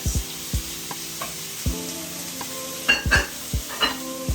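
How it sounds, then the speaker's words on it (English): Onions brown in a pan with a continuous soft sizzle and several dull knocks and scrapes of stirring against the pan, close and moderate in level, with no voices. "we're just gonna brown the onions a little bit more to get the flavors of the onions out"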